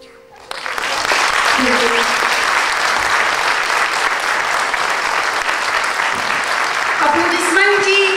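A concert audience bursts into loud, sustained applause after a song, swelling quickly and holding strong, with a voice starting to speak near the end.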